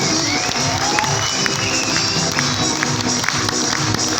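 An indoor audience at a business seminar claps, whistles and cheers loudly and continuously, a dense, close roar of applause with shouts and sharp whistles.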